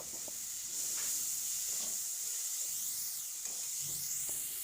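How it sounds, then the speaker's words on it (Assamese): Ground black pepper and chilli spices fry in an oil-filled pan, giving a steady close hiss and sizzle with a few faint clinks, no voices. "এতিয়া এই সকলোবোৰ ভালকৈ ভাজি লৈছোঁ"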